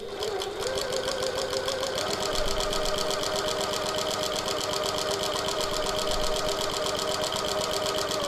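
Sewing machine stitching a piped pocket tote, running steadily at a fast, even mechanical rhythm, close and continuous from start to finish, with no voice over it.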